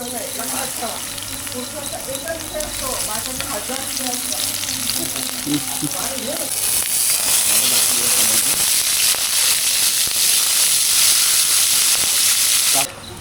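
Garlic sizzles in hot oil in a pan for prawn curry, a steady crackling hiss that swells louder partway through and then cuts off abruptly near the end.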